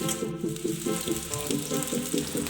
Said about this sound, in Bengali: এখানে আমি আলু আর কাঁকরোল দুটো একসঙ্গেই ভেজে নিচ্ছি।